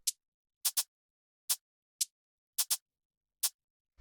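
Tech house shaker samples, sparse and dry: seven or so short bright hits in an uneven groove, some in quick pairs, playing alone and up close.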